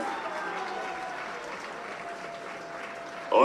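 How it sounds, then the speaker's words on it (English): Crowd applause for the homecoming court at a high school football game, a steady wash of clapping from the stands, with a louder voice cutting in at the very end. "Let's give the 2018 Central Catholic Homecoming Court another big round of applause."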